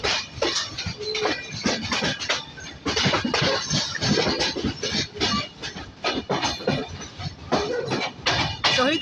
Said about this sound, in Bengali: অবশেষে জয়দেবপুর রেলওয়ে জংশনে প্রবেশ করছে আন্তনগর সিল সিটি এক্সপ্রেস ট্রেন